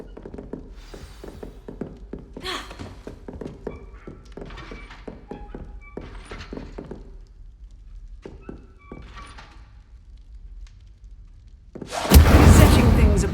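A burst of Incendio fire spell in the Hogwarts Legacy video game, a loud sudden whoosh-like blast arriving near the end after a stretch of soft taps, thunks and voice-like sounds.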